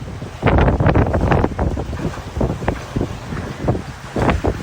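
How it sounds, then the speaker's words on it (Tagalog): Strong waves crash at Bagasbas Beach in Daet, Camarines Norte, during a typhoon, with loud repeated surges and heavy wind buffeting the microphone. "Sa Bagasbas Beach sa Daet Camarines Norte, malalakas din ang hampas ng alon."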